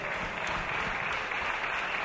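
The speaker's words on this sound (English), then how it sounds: "The crowd certainly appreciative of the effort" A raucous wrestling crowd at a Nottingham show applauds continuously, a thick, steady wash of clapping that fills the hall with no commentary over it.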